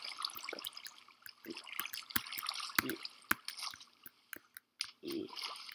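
Water splashing and dripping as a player swims in the Minecraft video game, heard as faint, scattered wet splashes and drips at close range with no talk.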